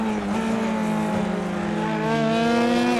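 Formula 3 race cars in a racing video game, engines droning steadily at high revs with a strong sustained tone and rising harmonics, several cars close together, no talk.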